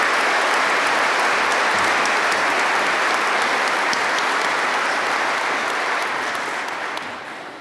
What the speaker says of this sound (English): Please give Dr. French Collins a round of applause again.